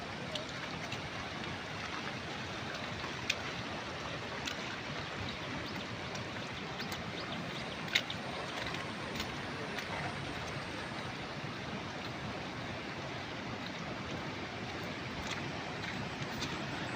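Floodwater rushes hard past a village road after a storm in Duarsuni. It is a loud, steady, unbroken roar of moving water that fills the whole clip with no pauses.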